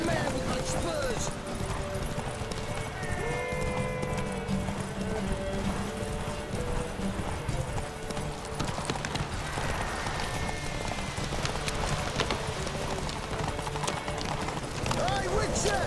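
A horse gallops in The Witcher 3: Wild Hunt, steady clip-clop hoofbeats running throughout over ambient noise, with voices talking now and then.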